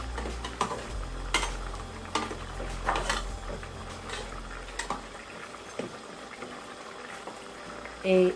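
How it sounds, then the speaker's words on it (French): Fish simmering uncovered in tomato sauce in a pot, a steady bubbling boil with scattered pops and clinks of the pan, close by, with some faint voice-like sounds in the background. "Et je vais laisser bouillir sans pourtant couvrir"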